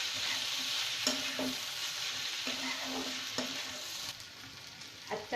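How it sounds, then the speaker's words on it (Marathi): Chopped tomato and onion sauté in a pan for a dhaba-style sukat dish, giving a steady close sizzle with scraping stirs at a few points and no talking. "त्यात आपण टाकूया एक चिरलेला टोमॅटो। आता तो चांगला परतून घेऊया।"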